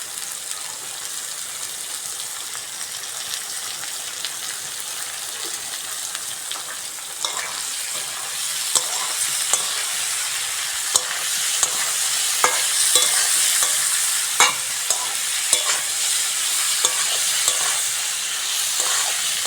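Chopped onion fries in hot oil while being stirred, a continuous bright sizzle punctuated by repeated scraping and clinking strokes of the spoon in the pan, close and fairly loud.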